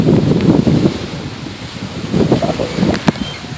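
Wind and breaking ocean waves at a cold beach fill the scene with a steady, loud wash of surf and gusty rumble, swelling and easing with no talking.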